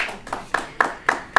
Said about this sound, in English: Come on, where's the applause?